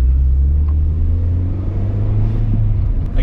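A GD3 Honda Fit engine with an HKS Hi-Power aftermarket muffler rumbles with a steady low, deep drone, fairly loud and close, rising only slightly without a sharp rev.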